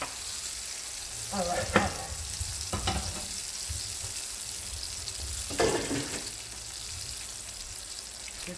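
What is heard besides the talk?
vegan onions frying and sizzling in a pan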